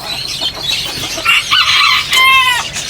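Nearby bantam chickens cluck in short bursts, ending in a higher, drawn-out squawk or crow-like call.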